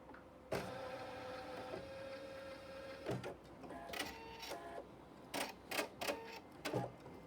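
A sewing machine stitches a flying geese quilt block in short bursts of rapid mechanical whirring, separated by pauses, faint and close.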